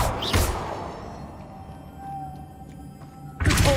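Expelliarmus spell cast in Hogwarts Legacy: a sharp burst at the start, a low lingering tone fading away, then another loud rushing impact at the end, with no talk.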